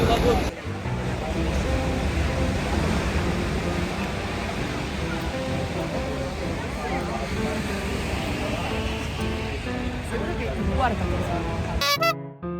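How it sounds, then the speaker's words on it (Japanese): Ocean surf at a Rio de Janeiro seashore roars continuously and loudly, a dense wash of breaking waves filling the whole stretch, ending with a brief cut near the close. "そしてまた海を見に来たよ。"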